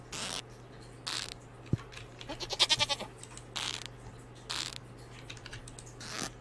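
A goat on a Stardew Valley farm gives one short wavering bleat, moderately loud, set among soft clicks and game interface sounds, with no talking.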